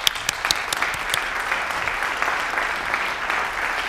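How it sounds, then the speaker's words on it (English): A conference audience applauds steadily for a keynote introduction at a 50th anniversary event, a dense wash of clapping at moderate loudness with no voices over it. "We owe you a round of applause."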